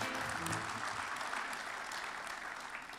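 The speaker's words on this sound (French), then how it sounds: "On peut vous applaudir." A conference audience applauds at an annual plenary session, a dense sustained wash of many hands clapping at steady loudness throughout.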